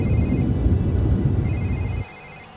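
In The Sims 3 video game, a phone rings with a repeating electronic tone above a dense wash of game background sound. The background cuts off sharply near the end, leaving the ring fainter.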